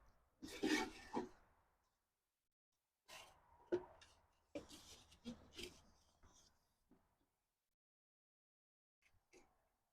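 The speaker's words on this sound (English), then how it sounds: "Some nice chisel action." A freshly sharpened chisel cuts into the wood of a greenhouse door in several close, scraping strokes. Bursts come in uneven clusters separated by short pauses, fading to a few faint taps at the end.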